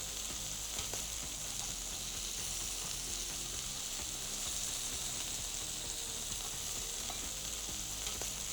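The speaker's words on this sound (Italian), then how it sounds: "Aggiungiamo i gamberoni e li scottiamo 20 secondi per lato." King prawns searing in a pan of well-heated oil, giving a loud, steady, close-up sizzle and crackle that continues without pause or talk.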